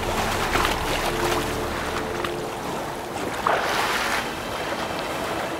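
River water in The Witcher 3 flows and laps steadily with a breezy, surf-like wash, loud and continuous, with no voices.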